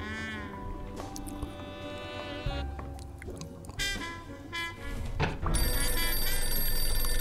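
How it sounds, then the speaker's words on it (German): Telephone ringing in the noir adventure game Blacksad: Under the Skin, repeated bell-like trills over a continuous background music score, with no talk during the clip. "Oh, Telefon."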